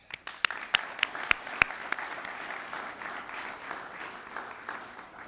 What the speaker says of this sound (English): a round of applause to all of you